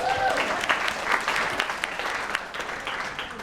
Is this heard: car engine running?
no